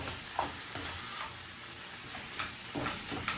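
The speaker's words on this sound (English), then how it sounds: "I let it cook just a little bit so that garlic can really get in there." Garlic fries in a pan with a faint, continuous sizzle and crackle, punctuated by a few soft stirring scrapes; no voices.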